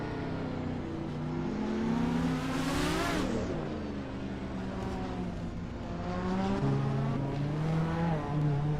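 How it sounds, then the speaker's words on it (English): Vintage 1979 BMW M1 E26 race cars roar off the line in a video game race at Autodromo Lago Maggiore East, engines revving hard with rising and falling pitch, a sharp surge and brief tire squeal, no talking. "the race is kicking off at Autodromo Lago Maggiore East, and leading the pack is Bot Rafael in a classic 1979 BMW M1 E26 March"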